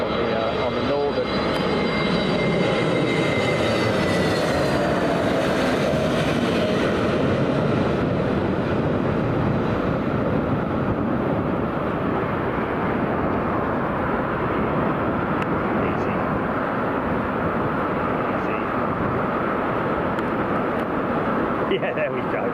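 A jet lines up for departure from runway 27 left at London Heathrow, its engines roaring loud and constant under steady background noise and some talk.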